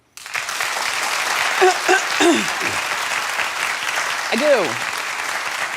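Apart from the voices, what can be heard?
audience applause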